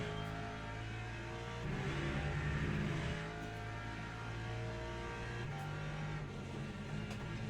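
A Lexus GT3 race car engine drones steadily at Lusail in Le Mans Ultimate, holding a sustained rumbling note with slight rises as the throttle shifts, heard from onboard without talk.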